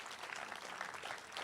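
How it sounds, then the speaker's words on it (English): An audience at an art panel conversation on worldbuilding applauds, a brief, dense wash of clapping heard quietly and evenly throughout. "Let's give everyone a big round of applause."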